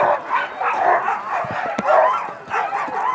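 Sled dogs in six-dog sprint teams at the start of a race in Heinola, Finland, barking and yipping excitedly in a loud, continuous overlapping chorus, several dogs close by.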